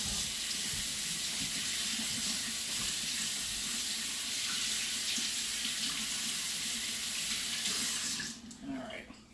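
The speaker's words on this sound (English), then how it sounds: "now, I'm going to rinse my hand off really quick" Hands rinsed under a running kitchen tap while cooking chicken wings: a steady, close rush of water that runs for about eight seconds, then cuts off, leaving a few drips and splashes.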